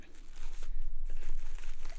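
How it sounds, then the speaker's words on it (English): Scissors slice open a subscription art-supply box with close crinkling, crunching cardboard and tearing sounds over two seconds. "Let's take our trusty scissors"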